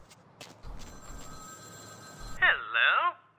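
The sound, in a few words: telephone ringing in a video game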